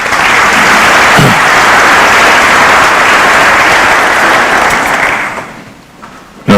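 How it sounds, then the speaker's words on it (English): A conference audience at a science week opening applauds loudly and steadily for about five seconds, then the clapping fades away. "Round of applause, ladies and gentlemen."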